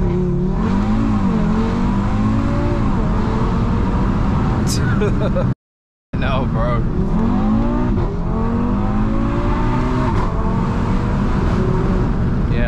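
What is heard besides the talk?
Audi RS3 car driving fast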